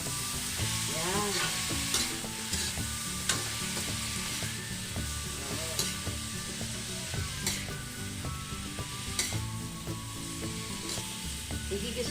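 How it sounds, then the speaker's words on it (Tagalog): Shrimp sauté in a hot pan under constant stirring, with a loud, close sizzle and repeated scraping clatter of the utensil against the pan. "Igigisa natin siya"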